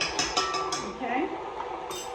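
Cookie mixture being stirred and scraped in a bowl, with close clinking and scraping of a utensil against the bowl in short strokes, fairly quiet, with a voice speaking briefly.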